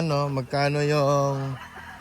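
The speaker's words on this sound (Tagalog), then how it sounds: "Dami pang manok dito mga boss." A rooster crows close by in one long, strained call, with a brief break near the start, as chickens cluck faintly in the background, at Mount Banahaw.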